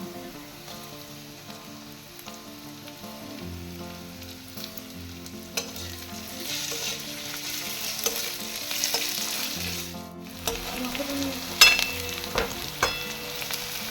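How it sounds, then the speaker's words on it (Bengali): Mutton fat frying with browned onions in a pan gives a steady, close sizzle with occasional stirring scrapes and small pops, and no one speaks. "চর্বিটা আমি খুব ভালো করে ভেজে নিয়েছি দেখুন চর্বিটা থেকে তেলও ছেড়ে দিয়েছে"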